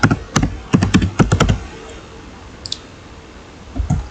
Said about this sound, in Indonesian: Kemudian kita ketikkan command switch port